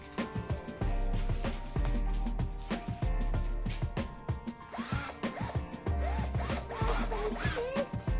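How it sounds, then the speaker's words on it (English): A power drill whirs in repeated bursts into wood at a folk art demonstration, its motor pitch rising and falling as it bites in, with faint voices and clatter in the background. "Drilling for the hair."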